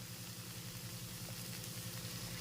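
Marinated chicken pieces sizzle and fry steadily as they go into oil-released masala cooked for chicken kosha, a dense continuous crackle with no talking.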